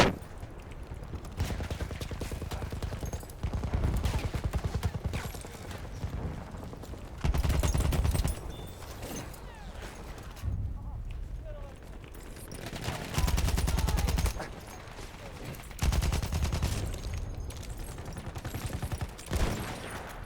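Automatic and rifle gunfire from the World War I shooter game Battlefield 1, sustained bursts of loud, dense shots with brief pauses between volleys, no voices.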